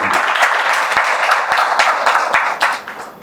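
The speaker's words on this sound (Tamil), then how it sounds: "மிகப்பெரிய கைத்தட்டலை" Loud, dense applause from an audience at a Rotary Club event in Usilampatti, continuous clapping with a few sharper individual claps standing out.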